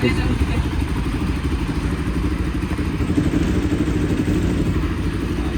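Motorcycle engines rumbling steadily nearby, a continuous low throb with some clatter.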